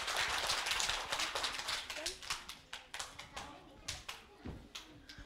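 An audience at a kindergarten event claps, starting with loud dense applause that thins into scattered individual claps fading out, with a voice briefly audible.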